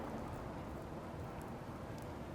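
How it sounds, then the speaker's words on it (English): Rain falling on a city street at night in the video game Spirit Hunter: Death Mark, a steady, full rushing hiss with no breaks, heard alone without voices. "walk over to the street in the rain"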